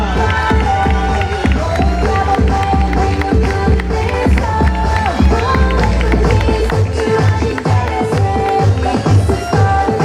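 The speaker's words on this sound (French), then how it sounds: "Et on applaudit Mallory et Odile." Audience clapping and cheering for models at a fashion show, dense crowd applause over loud rhythmic music with a heavy beat, sustained throughout.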